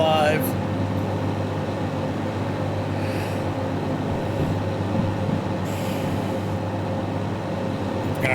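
A DE4 diesel locomotive rolls along in the Derail Valley train game, giving a steady, loud mechanical rumble, with a brief wheel squeal at the start.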